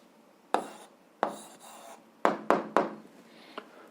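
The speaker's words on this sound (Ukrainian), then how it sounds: "Залишилося написати відповідь, пишемо відповідь." A pen writing an answer on paper, five or six short scratchy strokes in quick bursts, close and fairly quiet with pauses between.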